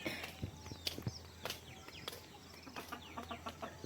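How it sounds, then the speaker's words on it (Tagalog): Chickens clucking outdoors around a home yard, short scattered calls and clucks repeating irregularly at moderate distance over faint background noise. "O, ayan yung aming manok. Ayaw umuwi."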